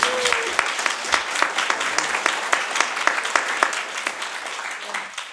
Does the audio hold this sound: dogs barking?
no